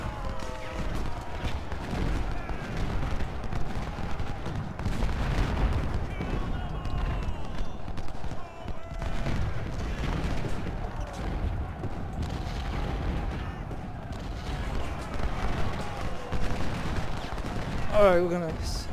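Civil War artillery guns fire continuously in Ultimate General Civil War, a dense rumbling barrage of booms and volleys at steady loudness, with some background battle noise.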